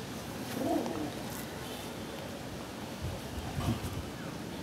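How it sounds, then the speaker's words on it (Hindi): Soft pigeon coos surface a couple of times over a steady, noisy outdoor background, low and muffled rather than close and clear. "सोबुज का ही लाइन दादा के घर पे भरा हुआ है, एक ही लाइन का कबूतर है"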